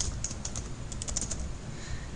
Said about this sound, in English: You can now simply type to add your branch text.